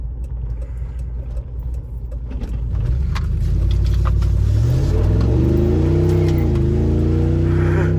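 A V8 car engine with a rusted-out exhaust idles with a rough low rumble, then revs up into a loud, rising, raspy roar that holds at high revs.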